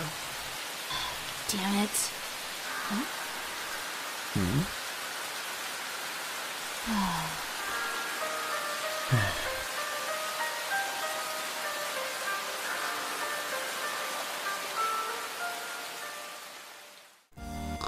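Steady broadband hiss of rain falling throughout, with a few brief vocal bursts and short spoken words over it before it cuts off abruptly.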